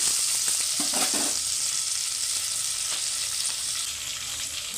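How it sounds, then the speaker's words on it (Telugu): Ginger paste sizzles steadily in a hot pan with capsicum for vegetable rice, a dense, continuous frying hiss with a few stirring scrapes near the start and no voices. "కొంచెం వేగిపోయిన తర్వాత మనం అల్లం పేస్ట్ వేద్దాము"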